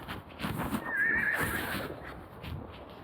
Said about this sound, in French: Petit hennissement.